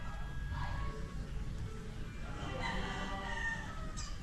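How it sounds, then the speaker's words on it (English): Chickens and a rooster on a street, with a steady clucking flock over constant low background noise and a rooster crowing in the distance. "Damn, even the chickens have a pecking order."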